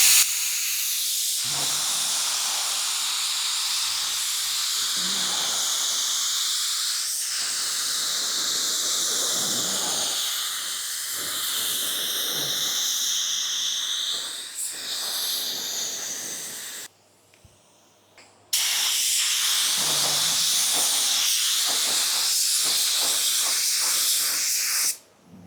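A spray gun lays clear coat on a car at high air pressure, giving a loud, continuous hiss that runs steadily, pauses for a couple of seconds, then resumes just as strongly.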